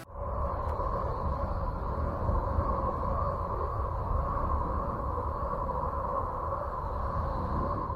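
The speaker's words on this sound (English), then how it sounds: "Uranus sounds like this." Sonification of the planet Uranus: a continuous low rumbling drone with steady tonal hums layered above, unbroken and even in loudness throughout.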